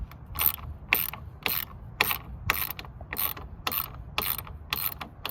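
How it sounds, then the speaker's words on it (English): Regular ratcheting clicks, about ten evenly spaced bursts, from the kit tool loosening roof rack bolts on a Ford Bronco, close and clear with no talking. "what you're gonna wanna do is use the provided kit and just remove these bolts."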